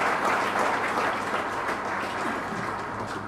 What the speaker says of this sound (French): Nous les applaudissons.